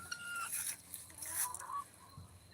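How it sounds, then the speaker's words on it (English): Bantam chickens clucking on a farm, a few soft, faint clucks and short calls at a distance, quiet and intermittent. "And these are our bantam chickens."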